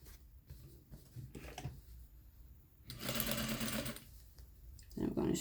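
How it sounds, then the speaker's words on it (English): A sewing machine stitches an invisible zipper into a pillow, running in two close, steady bursts of motor whir and needle clatter separated by quiet handling noises. "And I'm going to sew."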